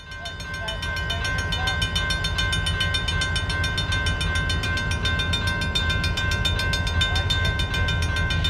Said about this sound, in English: En route to Plainwell, we caught the train at several rural grade crossings.